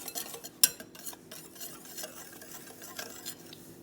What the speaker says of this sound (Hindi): ये जो हमारे पास ड्राई चीज़ें इनको पहले अच्छी तरह मिक्स कर लेंगे